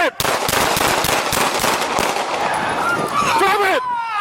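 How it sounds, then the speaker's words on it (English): Police opening fire on a knife-wielding suspect in Prince George's County: a rapid, loud volley of close gunshots crackles for a couple of seconds, with shouting voices over and after the shots. "Shots fired! Shots fired!"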